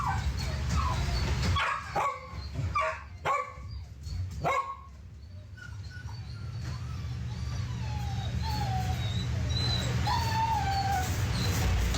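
A dog barks in a played-back recording: a handful of sharp barks early on, followed by drawn-out whines and whimpers over a steady background hum.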